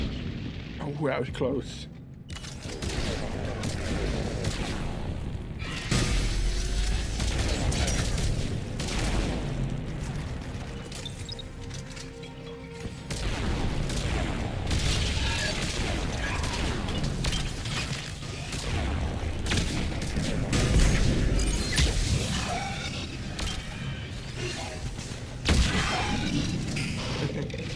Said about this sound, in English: I just love the delayed effect of the explosion.